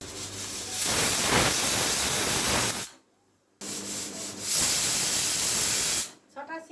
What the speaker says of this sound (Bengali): 6টা সিটি হয়ে গেছে, এবার গ্যাসটা বন্ধ করে প্রেসার কুকার নামিয়ে রাখবো।